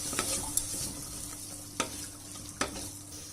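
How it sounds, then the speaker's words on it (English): Tomatoes cooking with salt and spices in a pan in an Indian kitchen: a quiet, steady sizzle with a few soft scrapes and taps of a spoon stirring, close and gentle, no voices. "Now we'll just cook this till the tomatoes soften a bit."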